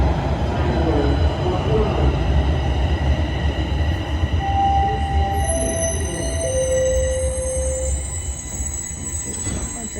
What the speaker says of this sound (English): There's the northbound train.